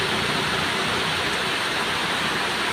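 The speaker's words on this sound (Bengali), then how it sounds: "দেখেছেন কি জোর বৃষ্টি হচ্ছে" Heavy rain pours down in a dense, unbroken hiss, loud and steady throughout with no voices.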